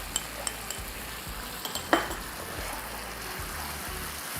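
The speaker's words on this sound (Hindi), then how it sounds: "मसालों को एकदम अच्छे से मिक्स कर लिया जाए" A spoon stirs red chili powder and garam masala through a frying pan, giving a steady low scraping and sizzle with a few light clinks of metal, close by and alone without talk.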